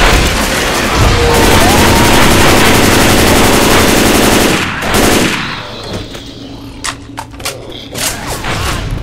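Gunfire in Left 4 Dead 2, a loud sustained burst of rapid automatic shots for several seconds, followed by scattered sharp single shots and clanks.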